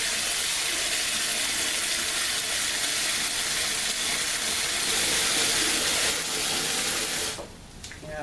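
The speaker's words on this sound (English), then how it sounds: "So I'm just going to use my nozzle here and top it up to 6 gallons." Water rushes steadily through a nozzle into a fermenter of pear cider, a dense continuous gush close by that thins and tapers off near the end.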